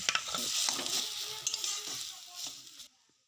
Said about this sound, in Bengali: এই ডাল বাটার উপকরণটা এর মধ্যে আমি ভালোভাবে দিয়ে একটু নেড়ে নেব।